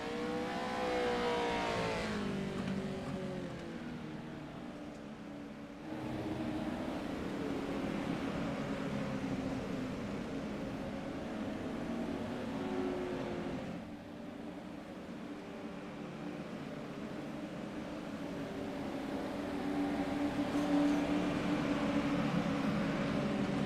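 Race cars lap a track during a race, with engines droning steadily at a distance in a broad, continuous roar that swells and dips as the field passes, with no talk over it.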